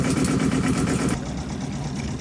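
Yanmar 2GM20F two-cylinder diesel in a sailboat, running cold at idle: a close, steady, loud chugging rumble with even rapid pulses that eases slightly partway through.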